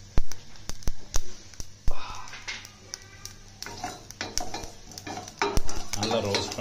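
Coriander seeds, fenugreek and cumin dry-roast in a pan over a medium flame for sambar sabzi. A spoon stirs and scrapes them in a quick, uneven rhythm with light sizzling and clinks of the pan, and a soft voice is heard at times.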